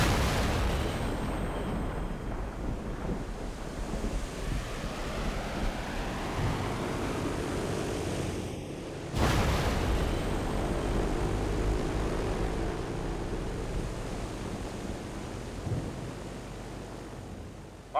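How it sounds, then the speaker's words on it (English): A C-130 transport plane makes a jet-assisted takeoff at an air show, a loud, sustained roaring rumble that cuts out briefly and then returns with a sharp burst before slowly easing off. "their C-130 transport crew demonstrates the jet-assisted takeoff"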